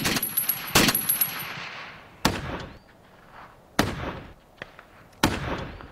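A Maxim machine gun fires in loud, sharp bursts, four heavy volleys spaced a second or two apart. Each burst booms and echoes away before the next, with no speech.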